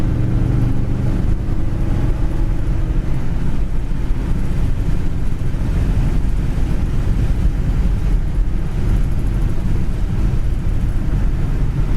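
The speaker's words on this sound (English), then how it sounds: "This is a small block, 2-barrel. Cruises really nice down the road." A 1968 Ford Galaxie with a small-block two-barrel V8 cruising down the road, giving a steady low engine drone mixed with road and wind rush, constant throughout with no voices.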